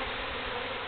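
Swarm of bees at a feral hive cut out, a dense continuous buzzing hum, close and steady through the brief moment.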